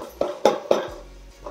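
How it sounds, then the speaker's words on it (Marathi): A steel plate set over a cooking pan of simmering Maharashtrian vegetable bhaji gives three sharp metallic clinks in quick succession, close and fairly loud, then settles into quiet. "आता 5 मिनिटं ताट झाकून ठेवणार आहे हे सगळं शिजायला."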